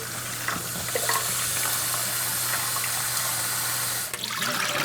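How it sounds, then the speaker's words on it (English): Tap water runs steadily into a container being filled with warm water, a constant splashing rush from start to finish. "Sometimes to speed things up is I'll just fill this full of warm water."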